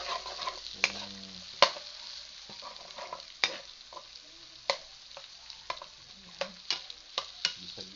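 White onion sautéing in a pan, a low sizzle under a series of sharp spoon scrapes and taps against the pan at an irregular pace.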